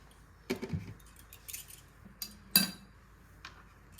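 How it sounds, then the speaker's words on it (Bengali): Oil being mixed into a bowl of fruit cake batter, heard as a few sharp spoon-against-bowl clinks and scrapes with quiet pauses between them. "ভালোভাবে তেলটা ভালোভাবে মিশিয়ে নিচ্ছি।"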